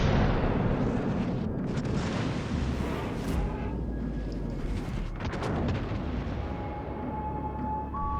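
Battleship guns firing in a naval game while sailing the Musashi, heavy booms and explosive bursts repeating over a constant low rumble of engine and sea.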